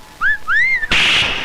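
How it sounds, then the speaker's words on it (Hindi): A person whistles a short tune, two clear sliding phrases rising and bending in pitch, close and fairly loud, then cut off by a sudden burst of broadband noise. "आप मुझे भी सीटी बजाना सिखाएंगे प्लीज?"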